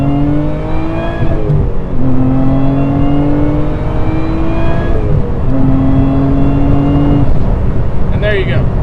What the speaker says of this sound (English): You can hear the supercharger. You can actually hear the car now.